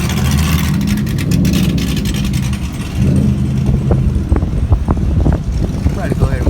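Cars pull up at a car meet, with a steady engine rumble and a vehicle rolling in close by. Scattered clicks and mechanical noise sit over the drone, and voices can be heard faintly at times.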